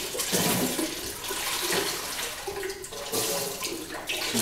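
Murky sponge water used for glazing pottery is swapped for clean water, a close rushing and splashing pour of water that surges and eases in short waves.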